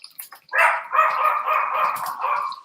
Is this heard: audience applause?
no